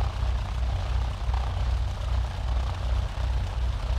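A steady, droning Cessna 152 piston engine running in a flight simulator game, a low continuous hum with no talk over it.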